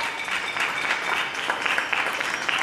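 Neighbours clap from their balconies in a steady, dense patter of applause, coming from many hands at some distance and continuing without a break.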